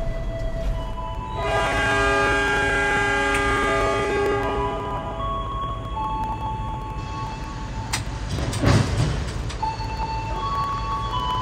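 The Argo Lawu night train pulls out of Purwokerto station on its Jakarta–Jogja run, sounding a long, loud multi-tone horn over steady rumbling wheels, followed by sharper rail clanks and a second horn note.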